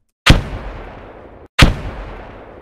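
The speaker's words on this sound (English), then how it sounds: "this is my grenade, obviously, Megas grenade" Two loud, close grenade blasts from the ArmA 3 video game, each a sharp bang trailing into a long rumbling decay, the second following about 1.3 seconds after the first.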